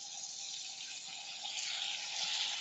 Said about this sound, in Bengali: তো বন্ধুরা এখন হালকা পরিমাণ পানি দিয়ে মশলাগুলো কষিয়ে নেব,